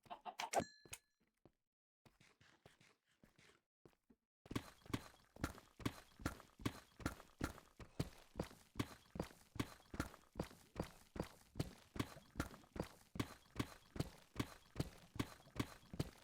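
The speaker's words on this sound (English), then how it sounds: "I forgot a donkey got all the way down here" A donkey plods through a deep mined-out area in Minecraft, its hooves making a steady, evenly spaced clip-clop that runs close and clear for most of the stretch, after a few scattered sounds at the start.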